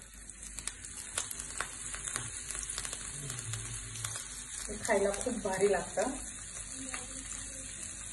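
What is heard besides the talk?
semolina-coated fish frying on a hot oiled tawa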